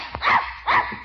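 A dog gives two close, sharp barks about half a second apart, loud and clear against a quiet background in a vintage radio comedy.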